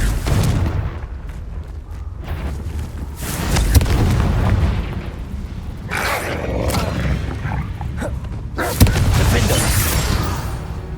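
Fiery Confringo spell blasts in Hogwarts Legacy: rumbling booms land around 4 and 9 seconds over a steady, roaring battle backdrop, dense and fairly loud throughout.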